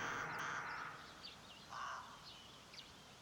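Crows cawing from a tree: several harsh caws in a loose sequence, some close and loud and others fainter, over a quiet background with no talk.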